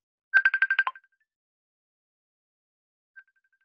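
A mobile phone ringtone sounds during a poetry reading: a quick burst of about eight bright electronic beeps in a row, then silence and one short faint beep a few seconds later.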